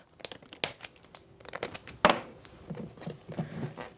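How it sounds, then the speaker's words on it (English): Packing tape pulled from the roll and pressed down to close a package, a string of crackling tears and crinkles with uneven bursts and one sharper rip near the mic, no talking. "So I'm just gonna tape this"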